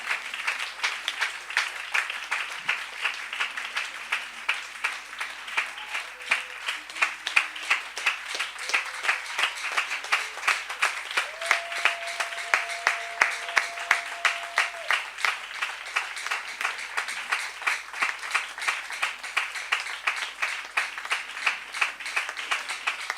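A church congregation claps in steady rhythmic unison for a long stretch, dense and sustained, while faint singing or organ tones drift underneath.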